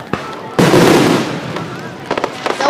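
A Fourth of July fireworks barrage opens with a faint pop, then one heavy, sustained burst of crackling detonations that slowly fades, followed by a scatter of quick, sharp pops near the end.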